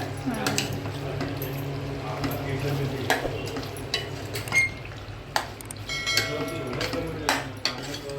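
Mutton pieces stirred in plenty of released oil over a low flame, a steady soft sizzle with scattered scraping and clicking of the spoon against the pan, with speech faintly present.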